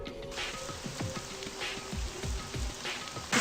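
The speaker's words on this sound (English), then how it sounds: "Oh, right, sprinkler systems." A sprinkler system sprays water indoors in the video game Super Danganronpa Another 2, a soft continuous rain-like patter over faint game tones with a few low thumps, fairly quiet throughout.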